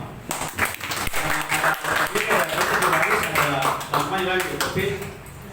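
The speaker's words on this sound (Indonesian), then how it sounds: "Tepuk tangan untuk semua." Applause from the audience at a public discussion forum on clean government in Ambon, a few seconds of uneven clapping mixed with overlapping voices and talk.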